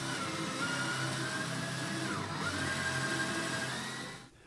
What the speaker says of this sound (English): drill starter holes just inside the corners of the cutting line